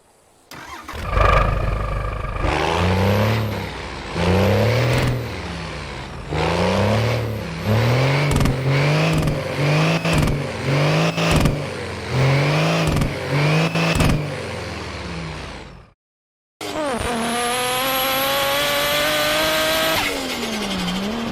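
A Brickade 6x6 MAN TGS truck, an MTL build, drives through traffic, its loud engine rising and falling through repeated gear changes with short revving bursts. The run ends in a brief silence, then a steady high drone.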